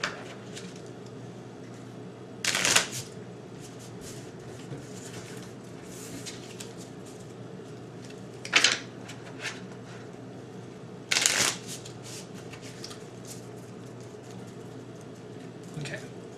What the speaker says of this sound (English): Make sure you take these out of the deck when you start and shuffle everything else together.